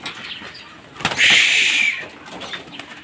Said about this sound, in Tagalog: magpapawala na tayo ng ibon natin.